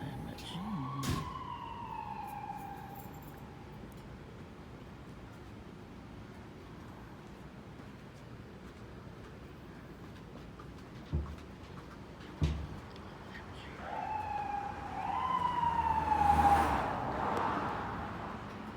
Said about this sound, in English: I think there was an ambulance.